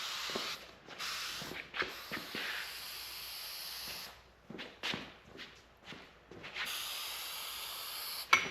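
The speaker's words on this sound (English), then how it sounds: "So now I'm just going to take the spray glue" Several bursts of hissing aerosol spray glue, some short and some sustained, separated by quiet gaps and soft handling noises, while restoring a 1970 VW Bus front seat.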